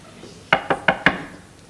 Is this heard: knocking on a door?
yes